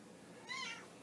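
A cat gives a single short, clear meow, close by and fairly soft, against a quiet indoor hum.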